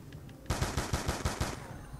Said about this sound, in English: I have an automatic gun now